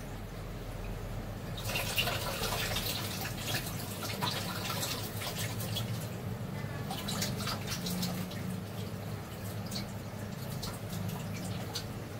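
Running water splashes steadily over fresh kolim shrimp being washed by hand, a quiet continuous trickle with faint clinks and splashes and no talk.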